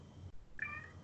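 A cat gives a single short meow, close and clear, after a moment of quiet room noise.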